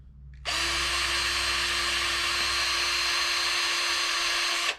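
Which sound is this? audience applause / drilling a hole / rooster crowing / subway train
drilling a hole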